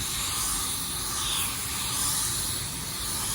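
Spray gun laying down a second coverage coat of metallic car paint, a steady close hiss that runs unbroken with no talk.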